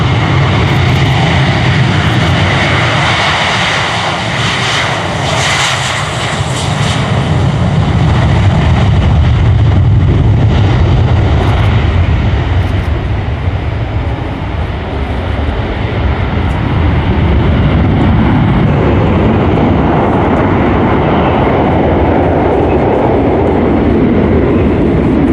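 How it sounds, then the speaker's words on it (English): An Embraer KC-390 Millennium military transport rolls for takeoff at an airshow, a loud, continuous roar of turboprop engines that stays powerful and broad for the whole stretch, with no voices. "So the KC-390 is a medium-weight, multi-mission tactical aircraft designed by Embraer"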